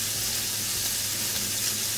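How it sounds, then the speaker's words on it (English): Loud continuous sizzle and hiss of meatballs in a hot pan flambéed with whiskey, an even roaring crackle close up with no pauses. "We add a bit of alcohol, I chose whiskey, to make a little fire show"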